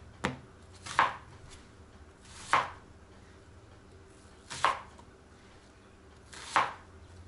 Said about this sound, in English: Chop it big chunks, and that's it.